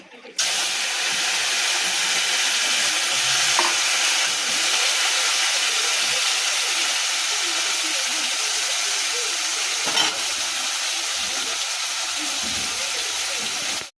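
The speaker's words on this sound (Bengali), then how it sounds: "মাছ ভাজাটা হচ্ছে, সবকটা একবারে দিয়েছি" Whole batch of fish frying in a pan with oil in a home kitchen, a loud steady sizzle and hiss running unbroken from start to end.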